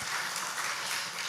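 A church congregation at a Sunday afternoon service claps in blessing for the student group, a brief, soft wash of many hands clapping together, slightly distant.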